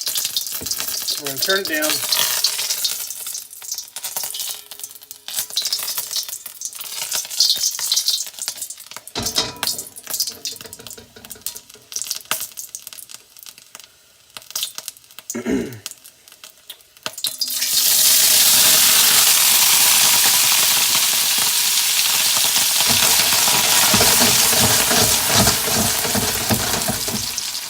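Chicken hits a very hot pan and sears violently, starting with crackling and spattering while someone speaks briefly, then swelling into a loud, steady, roaring sizzle that lasts the final ten seconds.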